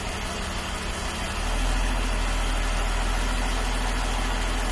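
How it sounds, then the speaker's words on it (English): A BMW E39 engine idles smoothly after a faulty cylinder 2 coil pack is fixed, a steady close hum that steps up slightly in level after a second or so and then holds even. "we have a smooth running engine back again"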